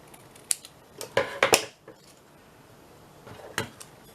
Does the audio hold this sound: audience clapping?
no